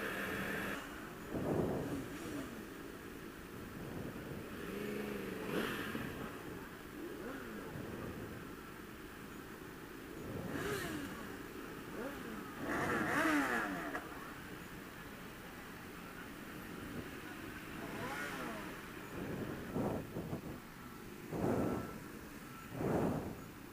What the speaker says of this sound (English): We got a ton of bikes trying to fit into a tiny space.